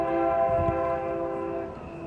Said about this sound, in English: there's the train horn.